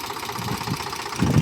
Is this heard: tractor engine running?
yes